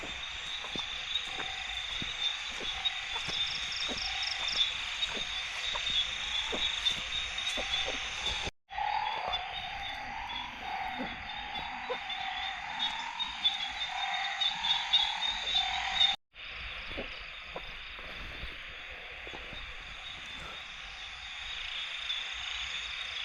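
Red-eyed frogs croak without a break, a dense chorus of pulsing calls that stays loud and close, heard alone for the whole stretch with two brief drops.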